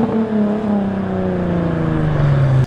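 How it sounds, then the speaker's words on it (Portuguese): Exhaust of a Nissan 350Z Nismo holds a steady, loud, close drone for nearly three seconds, its pitch sliding slowly downward as the revs ease off, with no talking over it. "Vocês vão ver que o ronco ficou muito bonito desse carro."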